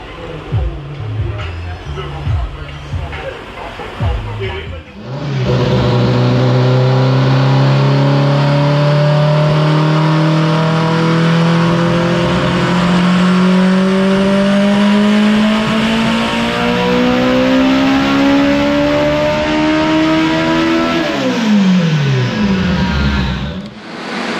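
An AWD Honda Integra engine on a dyno starts up and roars through a long, loud, steadily rising pull lasting about fifteen seconds, then drops off abruptly.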